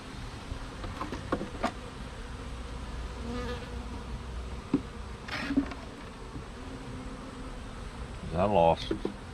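Honey bees buzz around a weakened hive troubled by wax moths, a continuous droning hum with individual bees flying close past, plus a brief clatter near the end.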